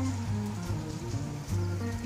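Steady rain falls on a wet, partly snowy morning, a continuous close patter spread across the whole stretch with no voices over it.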